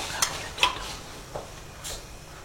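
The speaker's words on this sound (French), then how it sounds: "On remue" Pasta being stirred in a pan with a utensil, a few soft scraping strokes against the metal over a faint background hiss, close and quiet, with no talking.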